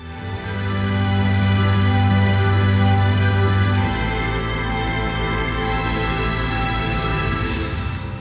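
Music plays loudly through a bank of 160 Samsung Galaxy Home speakers at a launch event, with sustained tonal chords that shift partway through and fill a large space.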